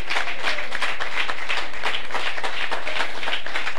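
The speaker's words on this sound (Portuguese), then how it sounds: "Aplauda Jesus." A congregation claps steadily during a Sunday morning church retreat service, loud dense applause with a rhythmic pulse running throughout.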